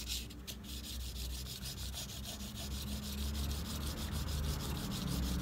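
A tool blade being sharpened on waterproof sandpaper, a steady close abrasive rubbing in rapid back-and-forth strokes that continues without pause and without talk.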